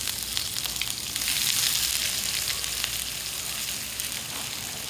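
Onion and chili frying in a pan for a Sinaloa-style squash colache, a steady bright sizzle that holds at even loudness throughout, swelling slightly midway, with no voices.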